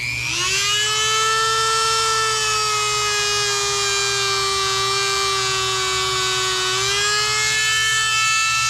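Dremel rotary tool buffing a knife edge, a loud steady high-pitched whine held close by, dipping slightly in pitch under load before rising again.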